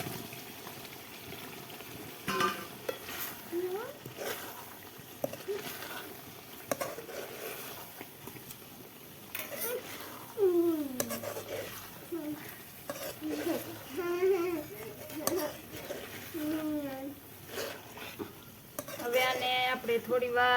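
Potatoes simmer gently in a spiced masala for Kathiyawadi dum aloo on low heat, with soft bubbling and sizzling, occasional stirring and pan clatter, and intermittent close sounds throughout.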